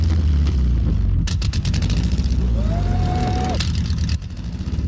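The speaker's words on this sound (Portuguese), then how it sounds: "Eu já ouvi esse motor antes." Racing car engine in an animated cartoon, a loud continuous roar with a rising, sustained whine partway through, over a rumbling low end.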